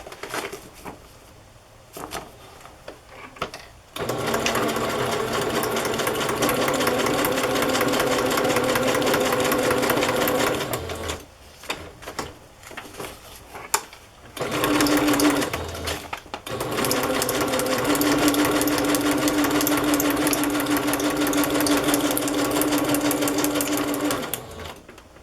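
A sewing machine stitches items onto a page of a Little Golden Book journal, running in two long steady bursts with a brief pause between them, loud and close with no talk over it.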